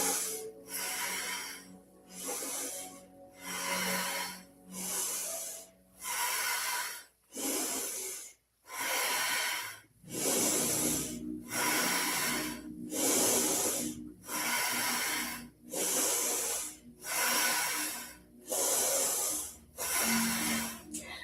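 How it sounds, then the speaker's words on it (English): Slow, steady breathing in and out during a Kundalini yoga session, about a dozen rhythmic breath cycles, close and fairly soft, each hissing through the nose with short pauses between. "Inhaling, exhaling."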